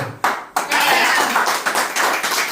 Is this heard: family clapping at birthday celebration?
yes